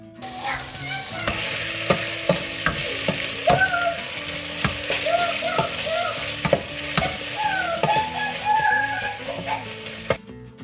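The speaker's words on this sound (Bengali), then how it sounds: "পেঁয়াজগুলো একটু লাল হলে দিয়ে দেব আদা, রসুন ও পেঁয়াজ পেস্ট।" Onions browned in a pan with ginger, garlic and onion paste for lamb curry, a steady close sizzle and frying hiss broken by repeated sharp scrapes and knocks of a spoon stirring, no voices.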